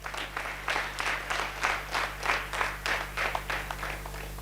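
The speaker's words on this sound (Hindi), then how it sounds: "बेबी लगे आओ जोर रे ताली दो।" Theatre audience at a Kosli/Sambalpuri stage play in Bargarh breaks into rhythmic applause, the clapping swelling in regular waves over a steady low hum, fairly close and sustained throughout.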